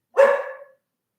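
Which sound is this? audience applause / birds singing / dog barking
dog barking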